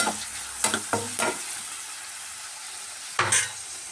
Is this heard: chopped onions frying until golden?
yes